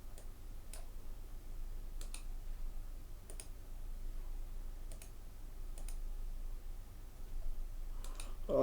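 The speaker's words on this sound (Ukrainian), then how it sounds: "Нажимаєте правою кнопкою мишки." A computer mouse is clicked a handful of times while software is being set up, giving sparse, sharp, quiet clicks at irregular intervals over a low background hum.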